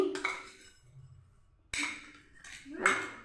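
A spoon clinks against a bowl as two spoonfuls of sugar go in: several short, bright metallic taps spread over a few seconds, close by, with quiet pauses between them.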